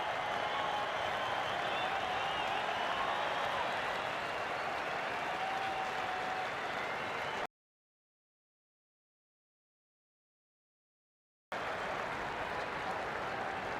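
A large cricket crowd at Perth during the 2010/11 Ashes Test between Australia and England cheers and applauds Mitchell Johnson: a loud, dense, steady roar of clapping that breaks off briefly, then surges back just as full.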